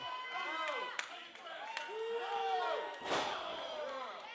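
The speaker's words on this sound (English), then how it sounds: "Bradley now taking the softened up Shira, slamming him down." At a professional wrestling show, a wrestler is slammed onto the ring mat. Several dull thuds land among steady commentator talk and crowd noise, with one heavier impact near the end.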